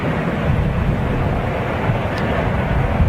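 Jet airliner near a runway, a steady broad roar of engine and rushing air holding constant and loud throughout, with wind buffeting the microphone and no voices.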